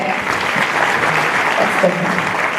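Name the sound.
audience applause at live show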